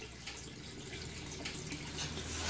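An aquaponics tank siphon kicks in and starts draining, giving a steady close rush of flowing, gurgling water that stays continuous and builds slightly toward the end.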